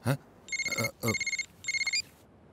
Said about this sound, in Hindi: Phone uncle.